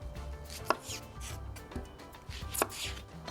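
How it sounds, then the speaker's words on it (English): A knife cuts through a sweet onion for a vegan grilled pizza, giving a few sharp, close chopping strikes with quieter rubbing and board contact between them and no talking. "I'm also going to cut up the sweet onion"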